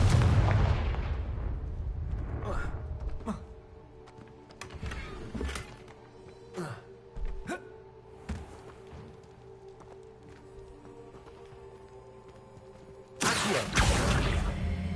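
In Hogwarts Legacy, Confringo blasting spells set off several booming explosions with sharp cracks, spaced unevenly among clicks and rumble, and a heavy roaring blast opening and closing the sequence.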